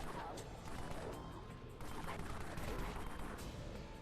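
Rapid gunfire in a shooter video game, dense bursts of shots and impacts running continuously and loudly, with enemies funnelled down a hallway.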